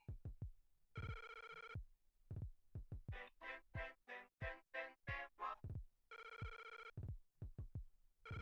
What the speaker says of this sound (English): I think that's supposed to be the sound of a phone ringing